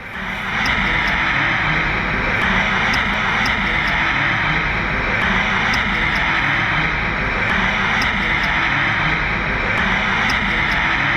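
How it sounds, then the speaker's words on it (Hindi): A Boeing airliner in flight with one wing on fire, heard as a loud, continuous roar of jet engine and rushing air that stays steady and unbroken throughout. "ये बोइंग का विमान हवा में था, उड़ान भर रहा था, उसी वक्त आग लग गई।"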